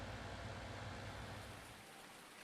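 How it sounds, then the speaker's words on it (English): Steady hiss of rainfall in the Farming Simulator 19 farming game, a broad wash of drops with a low rumble beneath, fairly faint and constant, easing slightly toward the end. "We're just going to have to wait till the rain stops"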